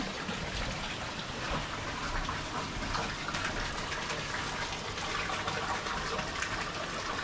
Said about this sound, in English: So the water comes in, fills up.